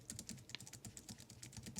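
Fingers type quickly on a quiet, soft-feeling computer keyboard, giving a close, muted stream of light clicks and taps at low volume.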